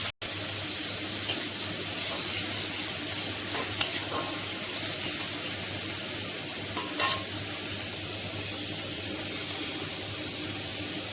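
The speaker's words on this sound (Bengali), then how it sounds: "ক্যাপসিকাম, বিট, গাজর, এটাকে হালকা ফ্রাই করে নেব।" Capsicum, beetroot and carrot lightly frying in a kadai give a steady, close sizzle through the whole stretch, with a few soft stirring scrapes and clinks now and then and no talking.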